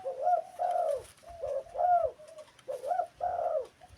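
A large dove with a medium-to-deep voice coos in a repeated rhythmic pattern, several soft hooting phrases in a row, close and clear against a quiet background.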